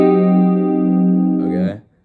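A sustained electric guitar chord rings out steadily for about a second and a half, then is cut off abruptly with a brief scrape of strings.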